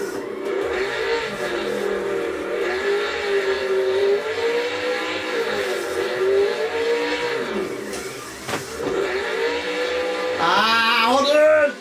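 A car in drift practice for a competition revs hard and holds a steady roar while its tires squeal. The engine dips briefly, then surges again near the end, and a voice talks over it.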